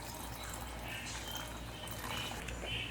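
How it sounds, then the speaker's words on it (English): Water pours steadily into a pot of simmering chicken curry, a continuous close splashing gush lasting a few seconds. "Add some water."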